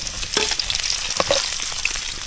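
Ginger and garlic fry in a wok, giving a close, crackling sizzle broken by a few sharp stirring scrapes and pops over a short stretch, with no one talking.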